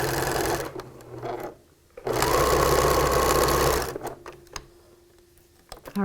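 A sewing machine stitches a seam in short close bursts of rapid, even whirring and ticking, with quiet pauses and small handling clicks between runs.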